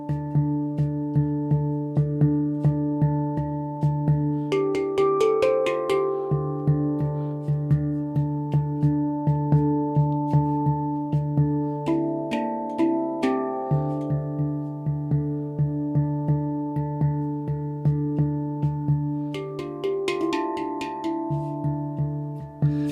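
A handpan plays a steady, funky ding groove of ringing metallic notes with struck accents, continuous and close for over twenty seconds, no voices.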